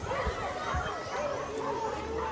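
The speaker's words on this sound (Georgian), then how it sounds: "მთელი ღამე 3-4 ძაღლი ისე ყეებს" Several dogs bark outdoors at night in short, repeated yips and woofs, fairly distant and mixed with a voice talking.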